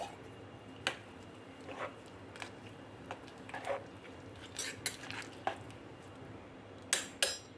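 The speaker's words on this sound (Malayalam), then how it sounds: "ഇനി ഇതിലേക്ക് ഞാൻ ഒരു ടീസ്പൂൺ ഗരം മസാലയും കൂടി ഒന്ന് ആഡ് ചെയ്യുന്നുണ്ട് നന്നായിട്ടൊന്ന് ഇളക്കി കൊടുക്കാം" A spoon stirs garam masala into paneer and peas pulao in a pot, producing scattered metallic scrapes and clinks and soft squishy rice sounds, close and moderately quiet.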